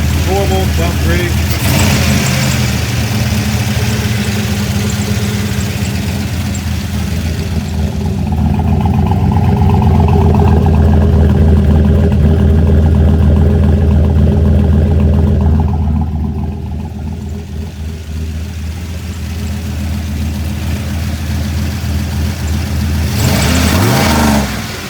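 A built turbocharged Chevrolet C10 truck engine idles at around 850 rpm and revs, a steady loud rumble that swells in the middle and fades briefly before rising again, with someone talking over it.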